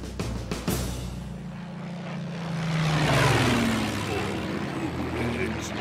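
A propeller plane engine drones in a Donkey Kong Country cartoon, a rising and falling buzzing hum that swells toward the middle and lingers under background effects.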